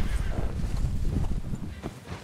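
Horse hooves clip-clop at a walking pace in the video game Red Dead Redemption 2, a close, uneven series of dull thuds with a faint whinny-like tone at times.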